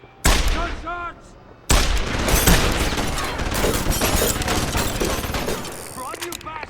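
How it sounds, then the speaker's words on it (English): Gunfire in the video game Deus Ex: several loud shots and bursts crack in close succession, with a voice shouting in the middle of the exchange. "Gunshots!"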